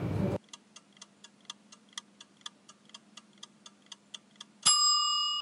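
A steady clock ticks about sixteen times at an even pace over a low hum, then a bright bell-like ding rings out to end the countdown.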